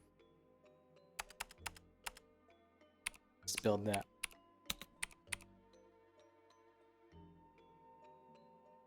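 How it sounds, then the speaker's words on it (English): Keys clatter on a real computer keyboard in bursts of clicks, with a dense flurry midway, while a person speaks briefly. "I'm gonna type on my real keyboard here."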